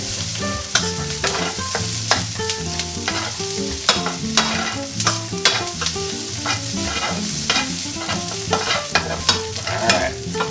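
Onions and sherry sizzle hard in a pan as the alcohol cooks off for French onion soup, a steady loud hiss broken by repeated sharp scrapes and clinks of stirring, with music running underneath.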